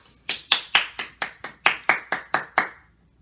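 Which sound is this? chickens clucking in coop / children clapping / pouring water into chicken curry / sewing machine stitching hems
children clapping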